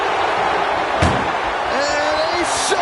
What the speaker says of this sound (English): And they shut the door and have won this ambulance match.